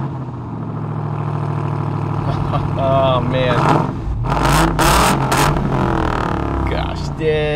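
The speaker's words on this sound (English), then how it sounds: "Let's start this baby up." A 2023 RAM TRX Havoc Edition pickup's engine starts and revs loudly up close, a steady heavy roar that swells, with a voice breaking in briefly.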